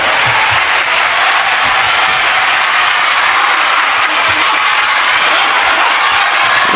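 Spectators at a WTT Champions Yokohama table tennis match applaud loudly and steadily, a dense wash of clapping and some cheering that carries on without a break.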